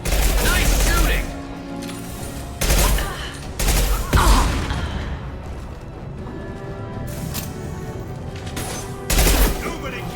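Gunfire in the Mass Effect 2 video game, heard as several loud bursts of shots separated by quieter stretches of game ambience and effects.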